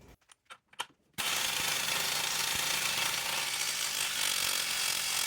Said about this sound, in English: the pneumatic gun and just rattle on it for a bit to make sure it's nice and tight